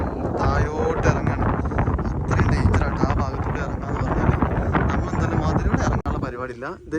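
Strong wind on the Kurisumala hilltop at Kakkadampoyil roars steadily into the microphone, a constant buffeting rush with a voice faintly underneath.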